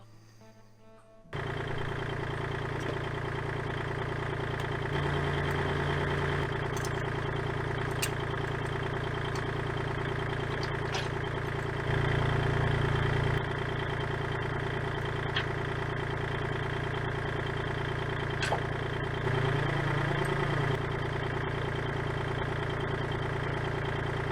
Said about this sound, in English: Time to fire up a little Kubota.